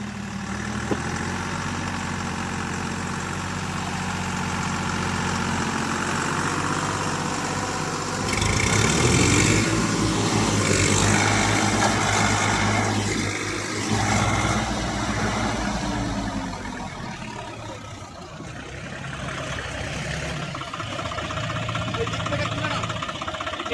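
A Swaraj 744 4x4 tractor engine labours while the tractor is stuck in deep mud, a loud, steady low rumble that revs up harder midway, then settles back to a throbbing idle.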